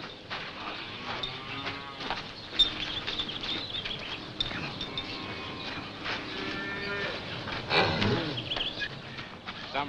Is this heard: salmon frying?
no